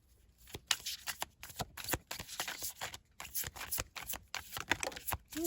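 Tarot cards are shuffled for a reading: quiet, close riffling bursts repeat in a quick uneven rhythm, with soft slaps and flutters between them.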